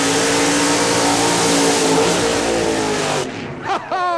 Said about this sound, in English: Oh, what a burnout by Weddle.